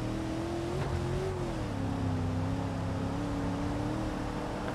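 A Gavril Grand Marshal sedan drives in a driving-simulation video game, its engine a steady mid-pitched drone that rises and dips slightly as it cruises, heard alone without talk.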